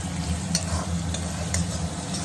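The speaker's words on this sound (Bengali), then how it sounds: "চিচিঙ্গাটা ভেজে আলু দিয়ে দেবো।" Snake gourd frying and being stirred in a pan: a steady close sizzle with scraping spatula strokes and a few sharper clicks, no talking.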